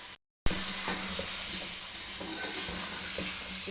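Whole coriander seeds and cumin sizzling in hot oil with frying chicken for chicken junglee pulao, a loud steady close hiss with faint stirring clicks, starting abruptly after a brief silence.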